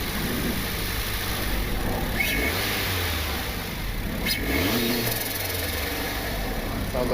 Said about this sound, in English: Sounds like turbo flutter.